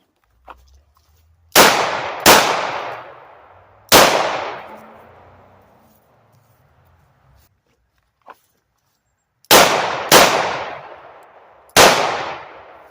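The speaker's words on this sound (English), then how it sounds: "revolvers are the ultimate close quarter carry gun" A snub-nose revolver fires six sharp, loud shots at 3 yards, in two quick groups of three with ringing decay after each, and a faint click in the pause between them.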